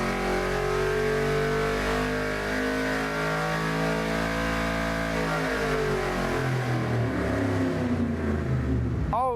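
A Trans Am TA2 category race car engine revs hard, its pitch climbing and then falling through sweeping harmonics, loud and sustained throughout.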